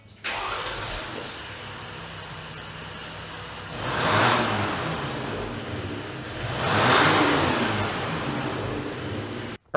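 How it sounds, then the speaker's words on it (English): A 2020-2021 Jeep JL EcoDiesel on its stock exhaust cranks and starts, then idles steadily with two distinct revs swelling and falling away, heard close and alone. "we're gonna fire it up and see how it sounds stock"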